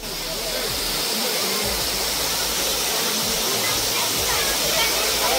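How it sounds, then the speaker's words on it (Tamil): Nam Aruvi waterfall roaring in a steady, dense rush of falling water, loud and close, with no break throughout. "இந்த இடத்தோட பேர் நம்ம அருவி,"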